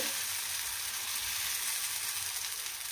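Dosa batter spread on a hot non-stick pan for instant sponge set dosa sizzles with an even, continuous hiss at moderate volume, uninterrupted and without speech.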